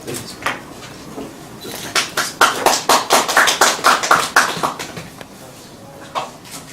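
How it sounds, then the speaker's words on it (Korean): A small room of people at a political press conference claps for a party spokesperson, sparse taps building into a few seconds of brisk close handclaps before trailing off into scattered claps. "이 자리에 박수 한번."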